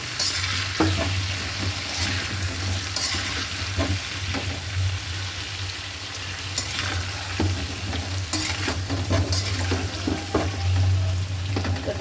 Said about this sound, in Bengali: হলুদ আর নুনটা মিশিয়ে দিই আলুর সাথে ভালো করে